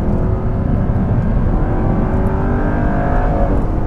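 Audi R8 supercar engine revving hard near 8000 rpm on an uphill road, a loud continuous roar heard close up and alone.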